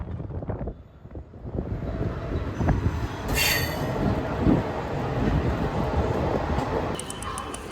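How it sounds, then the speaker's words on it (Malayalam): A train pulling into Coimbatore Junction railway station, a steady loud rumble of rolling wagons with a brief high wheel squeal midway and more squeals near the end. "ട്രെയിൻ ഇപ്പോൾ കോയമ്പത്തൂർ ജംഗ്ഷൻ റെയിൽവേ സ്റ്റേഷനിലേക്ക് എത്തിക്കൊണ്ടിരിക്കുക കേട്ടോ."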